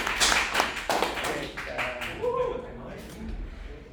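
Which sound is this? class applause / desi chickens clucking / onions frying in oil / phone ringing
class applause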